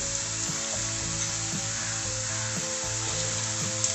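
Spices for a fish curry frying in hot oil with salt and turmeric, a steady close sizzle with faint scraping stirs and a low electrical hum underneath, no talking.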